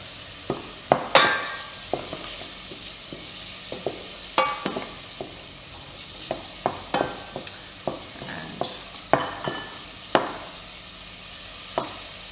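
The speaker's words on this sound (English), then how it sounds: "we're going to let the shallots just cook for a few minutes, just until they turn translucent and they start to soften a little in the oil" Shallots sizzle gently in oil in a pan while a utensil stirs and taps against it, producing scattered sharp clinks and scrapes over a soft continuous frying hiss, close by.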